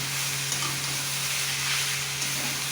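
Pointed gourd and potato pieces fry in a pan, giving off a steady, close hiss of oil sizzling with no talking, and the sound stays even throughout.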